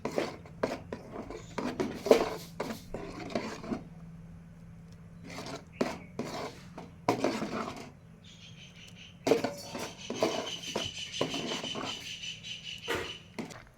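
A spoon scrapes and stirs a palm-fruit mixture in a pot as it heats, irregular rasping strokes in bursts with brief pauses, close and moderately loud, and no one speaking.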